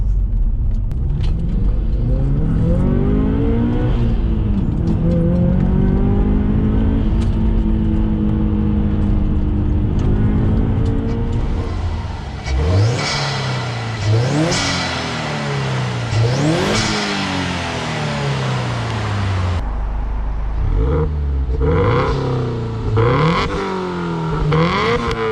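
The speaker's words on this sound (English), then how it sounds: "Induction noise is really good, even though it gets overtaken by the exhaust in the end." Turbocharged Subaru Legacy with a pod air filter revving repeatedly, loud and close, induction whoosh and rising engine note climbing and falling in several pulls, exhaust growing louder toward the end; no talking.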